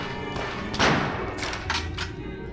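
A single rifle shot cracks out in the shooter You Are Empty. It is a sharp, fairly loud burst, and a few softer impacts follow.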